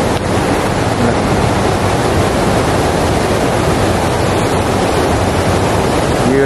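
A river flows beneath a bridge in Japan, producing a loud, unbroken rushing hiss of moving water close by, steady from start to finish with no voices.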